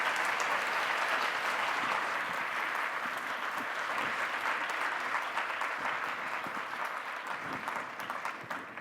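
Students and guests in Hawaii give Aung San Suu Kyi another round of applause: a thick, continuous burst of clapping that holds steady for several seconds before gently thinning out, with no one speaking.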